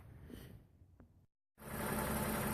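A car engine idles with a steady, low rumble. It cuts out briefly to silence and then returns louder and closer, with no voices.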